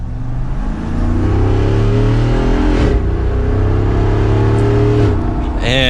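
Jeep Wrangler Rubicon 392 V8 with its performance exhaust off accelerates hard from the cabin, a loud steady engine drone whose pitch climbs through shifts, with a voice speaking over it.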